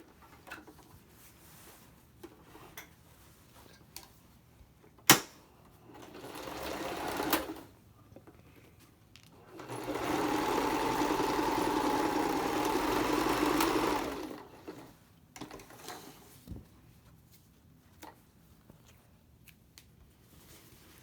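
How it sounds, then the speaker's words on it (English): A sewing machine stitches fabric along a drawn line for a boomerang bag, short whirring runs and one sustained burst of several seconds, separated by quiet handling clicks and a sharp knock. "So now what I'm going to do is just stitch along that line."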